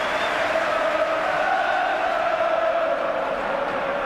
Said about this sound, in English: in a minute, applause will echo round Anfield